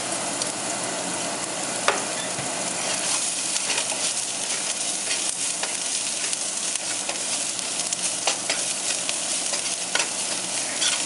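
Onions sizzling steadily in hot oil with a little salt, stirred now and then with a utensil scraping the pan, a continuous close frying hiss throughout.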